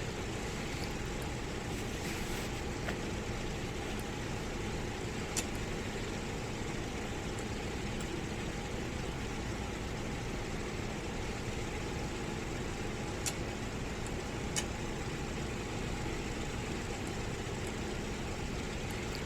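A PMDG DC-6B piston airliner engine starting in the MSFS2020 flight simulator, heard as a steady, loud, broadband rumbling drone with wind-like roar that continues without a break.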